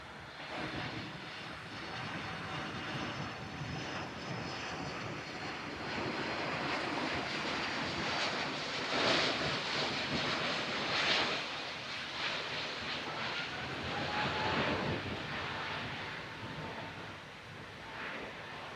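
An airplane flies a display at the Farnborough International Airshow, running on partly sustainable aviation fuel; a loud, continuous engine roar swells and fades as it passes, heard from a distance across the open airfield without speech.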